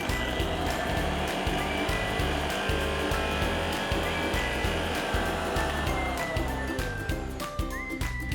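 Kitchen blender grinding spinach with water into juice, a loud continuous motor whine with a pulsing low churn, steady for several seconds before the pitch shifts near the end.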